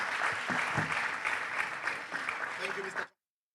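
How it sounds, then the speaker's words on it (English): An audience claps for a speaker at a drug-free generation event, steady close applause for about three seconds, then cutting off abruptly, with a voice faintly over it. "Some more applause for him."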